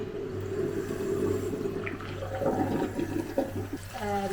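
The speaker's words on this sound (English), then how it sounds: "I'm just going to give it a really good rinse and then I shall just leave it to air dry" A shower being rinsed down with running water after cleaning, a continuous close rush of water splashing over the surfaces, with no one speaking.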